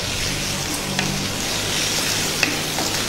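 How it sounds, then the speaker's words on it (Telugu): Green chillies frying in hot oil for mutton keema, a steady dense sizzle with a few faint pops and stirring touches, close and continuous. "పచ్చిమిర్చిని 1 నిమిషం బాగా వేగనిద్దాం."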